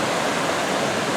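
River and mountain streams at Laxey on the Isle of Man rush continuously in a dense, steady broadband roar of flowing water, close and loud throughout, with no voices.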